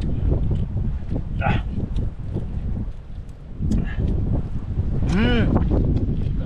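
Seaside wind rushes across the microphone in a steady low roar, with short bursts of voices and a brief tonal whistle-like call partway through.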